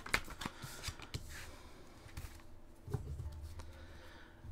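Tarot cards being shuffled to draw a final card, with soft papery riffles and scattered taps repeating across the clip, close and fairly quiet.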